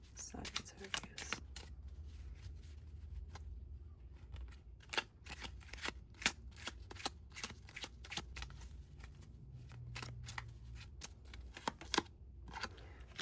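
Tarot cards being shuffled up close, a steady run of quick papery riffles and soft flicks that goes on for the whole stretch, with faint murmuring low in the background.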